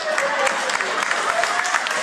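An audience applauds at a church sermon, a dense, steady wash of clapping filling the whole moment at close range with no voices on top.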